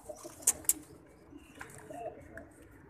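A pigeon gives a soft, short coo, close but faint. It opens with two sharp clicks, over a quiet background.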